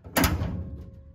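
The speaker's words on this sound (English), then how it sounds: "now with this piece all trimmed up here, I can shut the door." A single solid thunk as the door of a 1934 Chevy hot rod is shut, close and loud with a short resonant decay and no talking.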